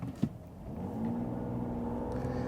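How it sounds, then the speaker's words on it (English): A 2025 RAM RHO truck engine idles with a steady low drone and a breathy intake whoosh that swells after a short thump, sounding close and continuous. "sound of it just sucking in all the air"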